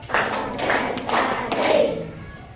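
Children in a classroom clap their hands in a counted rhythm, several sharp bursts of claps spaced about half a second apart, fairly close and lively with voices mixed in.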